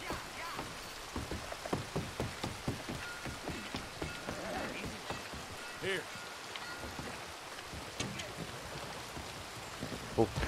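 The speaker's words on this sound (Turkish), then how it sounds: "Yağmur yağıyor be." Steady rain pattering in the Red Dead Redemption 2 game world, a continuous soft patter of drops on surfaces with faint wind, under occasional talk.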